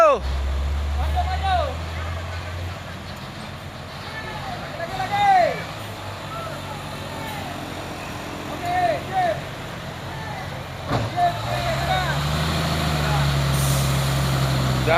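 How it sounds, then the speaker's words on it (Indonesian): A heavily loaded dump truck labors up the steep Bukit Kodok incline, its deep engine rumble droning steadily throughout, with occasional sharp air-brake or horn chirps rising above it. "Dam truk penolong di tanjakan Bukit Kodok."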